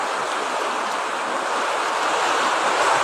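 Floodwater inside a flooded house makes a steady, loud, broadband rushing wash, like surf or a strong stream, with no talk heard over it.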